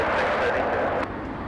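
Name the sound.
Southwest Airlines plane taxiing to runway at LAX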